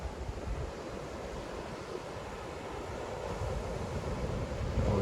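Cold ocean surf at Peggy's Cove, Nova Scotia, with a steady wash of waves and wind buffeting the microphone, loud and continuous throughout.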